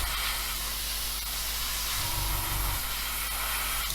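An airbrush sprays paint onto a 1/24 scale Airfix F6F-5 Hellcat model kit, making a steady close hiss that runs throughout and is briefly joined by a low rumble in the middle.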